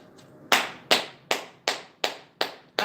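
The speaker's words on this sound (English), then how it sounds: "I gotta clap my hand" Hands clapping in an even rhythm, about seven crisp, close claps following a quiet start, with no talking over them.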